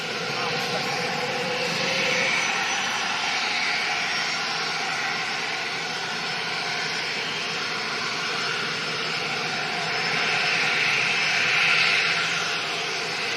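A jet aircraft passing at London City Airport makes a broad, steady roar that swells and fades slightly as it goes by.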